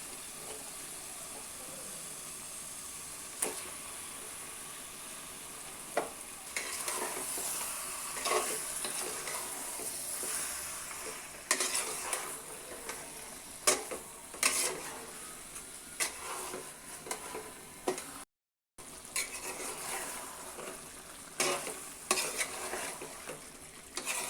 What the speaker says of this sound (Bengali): মাংসটাকে ভালো করে নেড়ে চেড়ে দিয়েছি